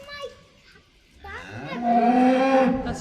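A bull in a cattle shed gives a loud, drawn-out moo that swells in the second half after quieter background noise and faint voices at the start.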